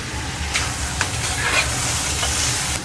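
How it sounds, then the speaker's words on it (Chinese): Chicken stir-frying in a hot pan gives a steady close sizzle, with a few brief scraping strokes as it is turned. "這個時候雞肉已經炒香了"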